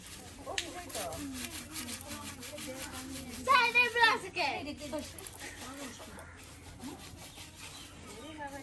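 Dried fish being rubbed and scrubbed with salt by hand, giving a steady gritty scraping with a louder burst of rubbing midway, while people talk throughout.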